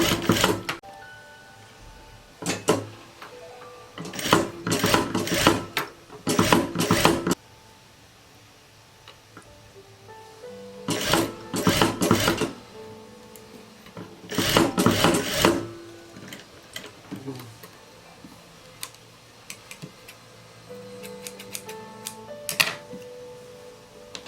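A home sewing machine stitches a skirt in several quick bursts of rapid mechanical ticking, each a few seconds long, with quiet pauses between them.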